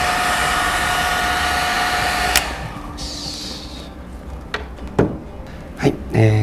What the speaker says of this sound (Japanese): 最後こう上から風を軽く当てて、ね、こう指で溶かしながら乾かすと